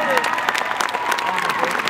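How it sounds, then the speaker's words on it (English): An audience at a horse show applauds steadily, a dense, close patter of clapping with a few cheers mixed in. "How about a hand for Chris Redden?"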